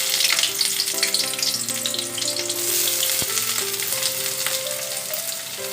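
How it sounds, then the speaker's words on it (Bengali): Chopped onions frying in oil, for a Bengali home-style ghugni, a dense, loud, continuous sizzle close by with one sharp clink partway through. "এবার এই তেলে আমরা যে পেঁয়াজ কুচিটা রেখেছিলাম সেটা দিয়ে দিচ্ছি।"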